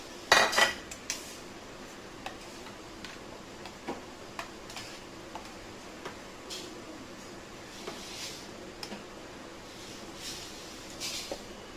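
A metal spoon scrapes and taps against a cut mango and dish, giving a string of faint, sparse clicks and ticks spread over time, with a brief louder clatter near the start and no talking.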